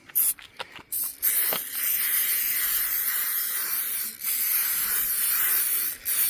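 Protection sealant sprayed from a can onto a Saab 9-3 convertible, a steady close hiss running for several seconds with short breaks, opened by a few quick bursts and clicks, no speech.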